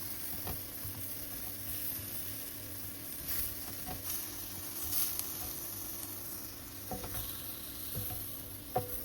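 Mushroom and steak sizzling on a grill, a steady close frying hiss with occasional soft taps and scrapes of utensils, continuous throughout with no talk.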